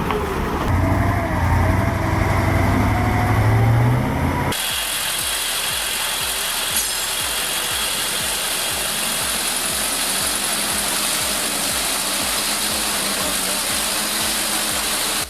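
An Iveco 6x6 logging truck's engine drones steadily as it crawls through clay mud, a loud constant roar with a rhythmic mechanical clatter beneath it and a brief louder stretch at the start.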